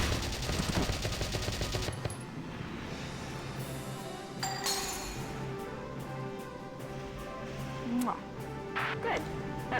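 Gunshots in the tactical war game Valkyria Chronicles: a rapid rattling volley at the start, then scattered single sharp reports and cracks spaced out over a rumbling battlefield backdrop.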